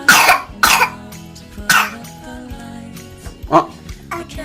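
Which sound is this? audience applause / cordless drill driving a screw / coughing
coughing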